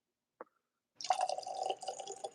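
Bourbon whiskey poured into a glass: a single soft tap, then a brief pause before a gurgling, trickling pour lasting more than a second, close and fairly quiet with no talking.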